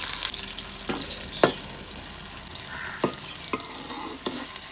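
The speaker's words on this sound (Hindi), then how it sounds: "घी गरम हो चुका है तो इसमें सबसे पहले डालेंगे प्याज, इसे हल्का सा ब्राउन करेंगे।" Onions frying in hot ghee, a steady broadband sizzle with occasional stirring clicks and spoon taps against the pan, close and fairly quiet with no voices.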